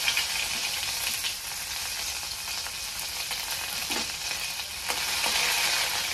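Ginger and garlic with cumin and mustard seeds sizzling in hot oil, a steady close crackling fry with faint stirring clicks and no talk.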